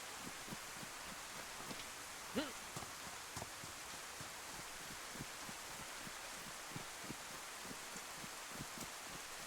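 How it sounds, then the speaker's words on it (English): Steady, faint rain in the DayZ video game, a soft continuous hiss dotted with scattered droplet taps and one slightly louder patter, with no other prominent sounds. "Still raining."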